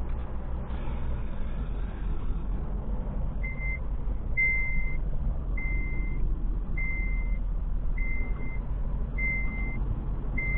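Inside an HGV class 1 tractor unit, a seatbelt warning chime sounds in a steady series of evenly spaced, high-pitched beeps over a constant low engine idle rumble. No one speaks.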